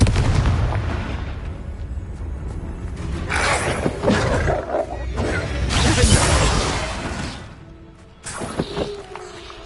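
Bombarda and Confringo spells go off in Hogwarts Legacy as a run of loud, roaring blasts with crashing bursts, dense and continuous over game background noise.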